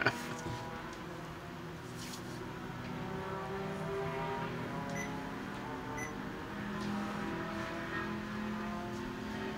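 Endurance race cars lapping a circuit in a ChampCar Endurance Series race, their engines droning and revving at a distance, a steady, fairly faint roar that swells slightly as the cars pass.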